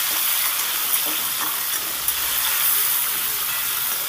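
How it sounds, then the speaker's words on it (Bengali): Two large tomatoes sizzle steadily in a pan of brinjal curry as they are stirred, a continuous loud frying hiss with occasional soft scrapes of the spoon. "সুন্দর করে নেড়ে চেড়ে টমেটোটা একটু ভেজে নেব"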